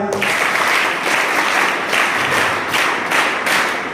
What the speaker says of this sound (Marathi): त्यांच्यासाठी टाळ्या वाजवूया